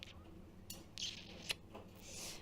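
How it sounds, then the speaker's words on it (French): Dishes and cutlery clinking as a dishwasher is emptied at home: a few sharp, close clinks and clatters spaced irregularly over a soft background hum. "je vais vider le lave-vaisselle"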